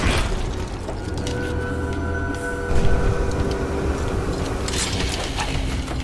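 A train rolls along in the video game Choo Choo Charles, a steady rumbling mechanical drone with a faint sustained whine and a brief heavier thump partway through, with no voices.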